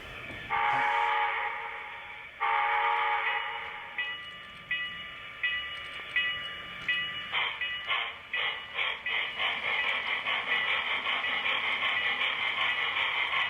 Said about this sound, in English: What we have here is a Southern Pacific cab forward pulling a unit train of mobile gas cars.